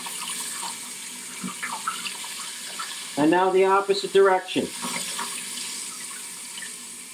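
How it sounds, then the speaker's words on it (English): A boat's lateral thruster forces water out through angled side ports, making a steady rushing, splashing hiss throughout, with someone briefly speaking over it in the middle. "we can see the force of the water coming out the side due to cleverly designed angles within this device"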